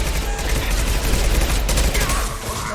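Rapid bursts of gunfire crackle through a firefight in Mass Effect 2, dense and loud over a short stretch of game combat.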